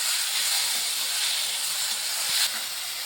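Potatoes fry in a pan for a ridge gourd stuffing, giving a steady, even sizzle and hiss that stays at the same level throughout with no voices.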